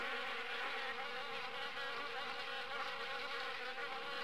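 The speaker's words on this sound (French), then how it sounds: "Des bruits d'abeilles." Steady swarm of bees or wasps buzzing in the video game Harvester, around an abandoned house and an old car where a wasp nest sits; a dense, continuous drone, close and even, with no voices.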